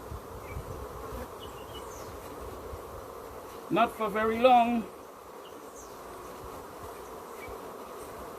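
Africanized bees buzz around an open beehive in a low, continuous background hum, while a brief spoken phrase rises over it midway through.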